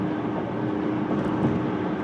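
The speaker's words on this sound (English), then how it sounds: "Got a motorcycle passing by me right here" Steady roar of traffic on a freeway as a motorcycle passes close by, heard from inside a moving car with a continuous, loud engine and road drone throughout.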